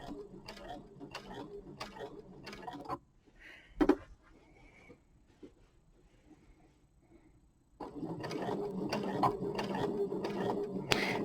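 Sewing machine stitching in the ditch of a snowman quilt wall hanging, a close rapid mechanical chatter that runs, pauses for several seconds with faint handling noises, then resumes steadily.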